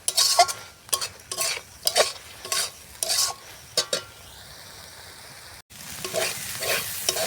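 Masoor lentils and tomato are stirred in a wok in a series of about ten scraping strokes over a soft sizzle, then a short pause and steadier sizzling.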